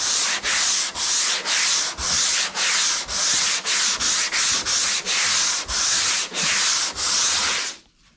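Rhythmic back-and-forth strokes of 80-grit sandpaper on a block rasp against the roof of a 1956 Chevy, about a dozen even passes, close and steady, then stopping.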